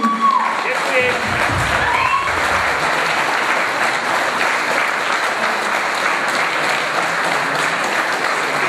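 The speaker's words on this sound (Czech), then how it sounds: "Prosím o velký potlesk" Large crowd applause at an evening celebration marking 130 years of a volunteer fire brigade in Drásov, dense and sustained for several seconds, with a voice speaking briefly over it at the start.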